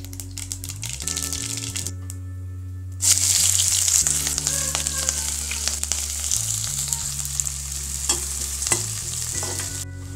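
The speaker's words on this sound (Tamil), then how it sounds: "இப்போ வெங்காயம் வதங்கிடுச்சு" Onions fry in a pan with green chilies and curry leaves, giving a continuous sizzle that grows louder after about three seconds, with a low hum beneath and frequent clicking stirs.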